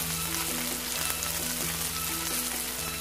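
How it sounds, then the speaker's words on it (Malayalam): Green chillies fry in a pan for prawn theeyal with a loud, dense, steady sizzle and light stirring clatter close by, and no voices. "ഇതിലേക്ക് പച്ചമുളക് ചേർത്ത് കൊടുക്കാം."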